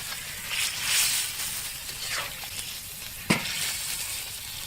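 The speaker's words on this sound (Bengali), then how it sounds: "ভাজা মাংস এবার আমরা ঢাইলি দিলাম।" Fried country chicken meat is tipped into a pot of spices for a village curry, setting off a bright hissing sizzle with a few stirring scrapes and one sharp clatter partway through.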